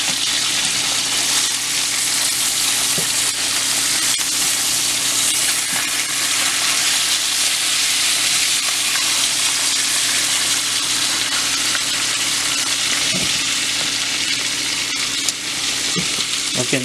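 Salmon fries in a pan on a stovetop, a loud continuous sizzle and crackle with an occasional scrape or tap of a utensil, no talking over it.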